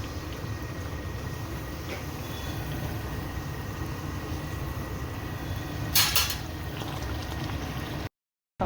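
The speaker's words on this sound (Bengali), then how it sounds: "তখন আমি পুরিগুলো ভাজি, তেল গরম করে দিচ্ছি" Puris frying in hot oil on a rainy day, a steady crackling sizzle that runs throughout at moderate level, with a brief clatter of a utensil partway through and no talking.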